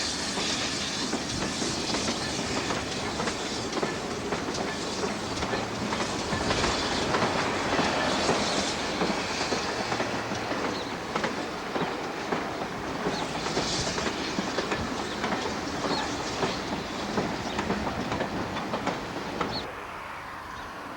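A heritage steam train runs along a preserved railway line near Churston with continuous loud rumbling, hissing and rhythmic clickety-clack of wheels over rail joints, heard close and without voices for about twenty seconds.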